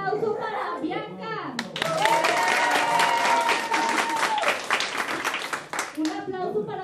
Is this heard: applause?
yes